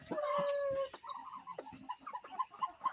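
Poultry birds in a 50-bird farm structure cluck continuously at close range, with a sustained rooster-like call at the start followed by a series of short, repeated clucks and calls.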